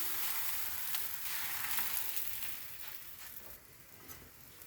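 Gentle sizzling of a roti cooking in ghee on a hot griddle, crackling steadily up close and softening slightly toward the end.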